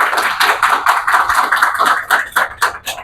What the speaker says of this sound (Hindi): मैं आप सबसे अनुरोध करती हूं कि जोरदार तालियों से कंचन मिश्रा जी का स्वागत किया जाए